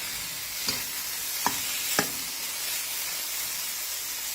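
Fish meat and fish roe dry-roasting in a pan, giving a steady soft sizzle and hiss with a few sharp clicks of stirring scattered through, close and fairly quiet, with no talking.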